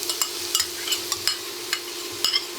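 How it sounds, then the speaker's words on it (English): Onions frying in oil, a soft sizzle with regular light clicks and scrapes of stirring, close and fairly quiet, no voices. "Into this oil, I'm gonna cook the onions, but the onions we will cook until they are dark golden"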